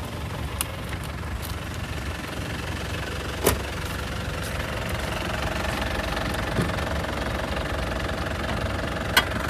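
A 2008 Isuzu Panther turbo diesel engine idles steadily with a low, even rumble and faint knocking, heard up close in the engine bay, with a few sharp clicks and no speech.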